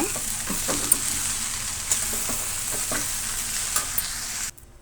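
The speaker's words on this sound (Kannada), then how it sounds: "ನಾವು ಕಾಯಿ ತುರಿನ ಸೇರಿಸೋಣ. ಇದನ್ನು 1 ನಿಮಿಷ ಫ್ರೈ ಮಾಡೋಣ." Grated coconut sizzles steadily in a pan with a few soft scraping stirs, close by, no voices, ending abruptly.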